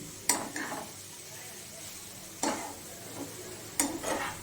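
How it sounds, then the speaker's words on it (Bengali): Grated carrot for carrot halwa stirred in a pan, with a few scraping, clinking strokes of a spoon against the metal over a soft background sizzle, close and fairly quiet. "নাড়াচাড়া করে দিচ্ছি। না হলে গাজরটা পুড়ে যাবে।"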